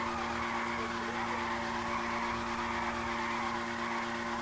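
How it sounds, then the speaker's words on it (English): Car doing a burnout in a video game, tires skidding with a continuous high screech over a steady engine drone, held loud and unbroken from start to end. "Do a burnout"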